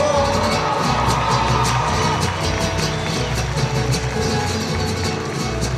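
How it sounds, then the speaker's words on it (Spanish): A large concert crowd at a show in Aguascalientes, 2014, roars with continuous loud applause, cheering and whoops for the bassist, dense and sustained throughout. "por el maestro Juan Carlos, un fuerte aplauso para él, por favor."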